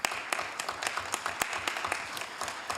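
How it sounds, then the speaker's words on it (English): A crowd applauds at a Hayward city council meeting in a room, with a steady patter of many hands clapping and a few sharper claps standing out, continuing throughout. "So let's give them a big round of applause."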